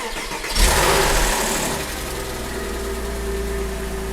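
A 2003 Porsche Boxster S 986 engine cranks and fires after its water pump, thermostat and coolant change, flaring briefly before settling into a steady, close idle.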